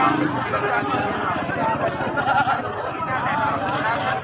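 Young goats about three months old bleat at a busy open-air livestock market ahead of Eid sacrifice, with steady crowd chatter and voices throughout.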